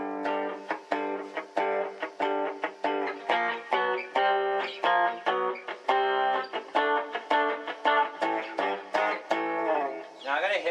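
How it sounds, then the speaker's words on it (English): Electric guitar played through an amp's clean channel set to half a watt with all controls at the middle, a run of picked notes and chords ringing out one after another, close and clear, with no voices. "So here's a clean channel,"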